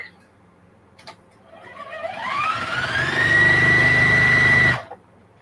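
A sewing machine stitches a piece of fabric, its motor whirring up into a steady, rising hum that runs for a couple of seconds before stopping abruptly, close and fairly loud.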